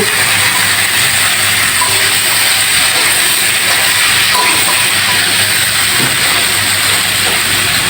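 Vegetables sizzle steadily in a hot pan as fried lentil dumplings are stirred in, a loud, even hiss that carries on throughout without talk.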